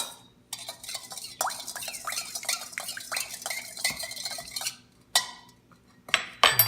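A utensil stirs sugar into a sauce for red snapper with garlic and bok choy in a metal pan, with repeated scraping strokes and bright clinks in uneven bursts separated by short pauses.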